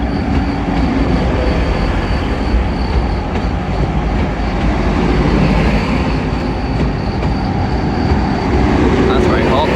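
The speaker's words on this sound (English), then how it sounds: "the terminating Transpennine Express 185 from Wakefield Kirkgate" A Transpennine Express class 185 diesel unit arriving at York, loud continuous rumble of rolling wheels and engine with occasional squeals and clatter, close by, with speech faintly underneath.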